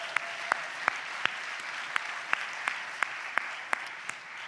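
Audience clapping at a Quebec Liberal Party general council meeting: a steady broadband patter of many hands, moderately loud and fairly distant, with sharp periodic clicks punctuating it throughout.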